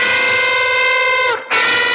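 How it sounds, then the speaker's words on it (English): An electric guitar string bent short of pitch rings out with a sustained distorted tone that sags out of tune before cutting off and restarting, loud and close, no voices. "it also sounds like an elephant if you underbend"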